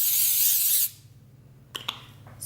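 A sustained hissing burst of cooking spray onto plastic wrap lasting under a second, followed by quiet and a few small crinkling taps.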